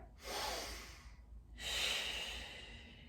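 Two long, audible breaths during a Pilates hamstring stretch, each a slow airy inhale or exhale close to the mic, separated by a short pause, in a quiet room.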